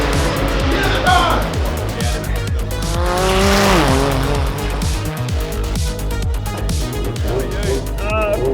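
Nissan R35 GTR time attack car on a track with a failing gearbox, engine revving loud and near with rising and falling pitch sweeps and tire squeal, continuous throughout.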